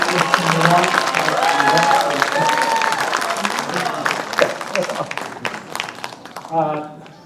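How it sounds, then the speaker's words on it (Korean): A lecture audience at a Gwangju public education talk on democratic citizenship applauds warmly, a dense, steady wash of clapping that slowly thins toward the end while a voice speaks over it. "다시 한번 뜨거운 박수 부탁드리겠습니다"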